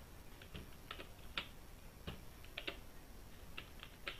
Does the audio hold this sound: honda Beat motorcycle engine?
no